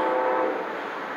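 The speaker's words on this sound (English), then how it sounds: "listen to the choo-choo train." A passing train sounds its horn in a steady, sustained blare over a broad rumble, fairly loud and unbroken, with no voices.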